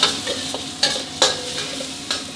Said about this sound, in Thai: แล้วผัดพริกกับกระเทียมกับน้ำมันร้อนๆนี่ก่อนนะครับ